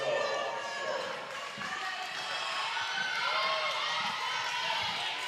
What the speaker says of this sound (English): Simsbury crowd getting loud